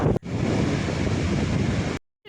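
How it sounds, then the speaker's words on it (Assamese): Jang waterfall near Tawang, Arunachal Pradesh, as a dense, loud broadband roar of rushing water mixed with buffeting wind on the microphone, steady throughout before stopping abruptly at the end. "চাওক একদম ভয়ংকৰ পানীৰ স্পীড, আৰু চাওক বতাহত পূৰা 1 ছেকেণ্ডত ভিজাই দিয়ে"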